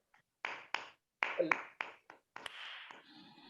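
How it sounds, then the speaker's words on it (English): A handful of separate claps at a Toastmasters club meeting, sparse and quiet with gaps of silence between bursts, ending in a softer sustained rustle. "Let us give a round of applause to him."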